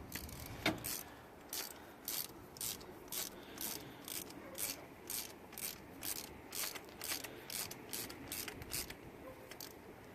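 A hand ratchet turns as a spark plug is threaded back into a car engine, giving steady, evenly spaced clicks, quiet and close, about two per second over low background noise.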